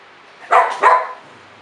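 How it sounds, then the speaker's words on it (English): Dogs give two quick, loud barks close by indoors, while someone does a tissue-and-tin piggy bank craft. "My dogs decide to come in as well."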